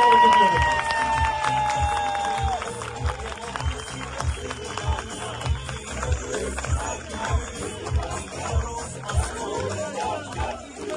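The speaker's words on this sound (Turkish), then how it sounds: "Sayın Belediye Başkanımız ve Başkan Adayımız Gökhan Mustafa Demirtaş'ı alkışlarınıza sahneye davet ediyoruz." A large crowd at an outdoor election rally in Turkey cheers and claps rhythmically in unison, with a whistle at the start and an announcer's voice over the steady pulsing applause.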